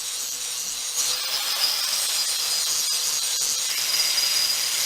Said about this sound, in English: Here I'm just cleaning up the profile on a bench grinder.